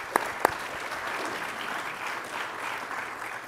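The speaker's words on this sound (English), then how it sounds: "let's give Steve a big round of applause for" Applause from an audience, a continuous wash of many hands clapping at an even level, with two sharp close claps standing out near the start.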